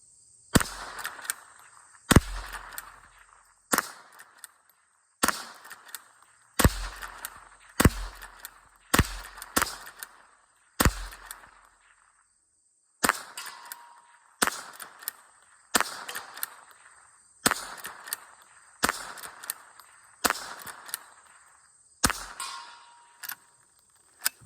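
Shots from a .22 rifle, a Henry Golden Boy lever action, fired one at a time in a steady, evenly spaced series of about sixteen sharp cracks. Each crack is followed by a short, fading tail, with quiet gaps between shots.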